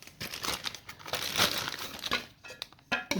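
A plastic bag packed with tomatoes for freezing crinkles and crackles in bursts as air is pressed out of it by hand, up close and fairly quiet, with no talking.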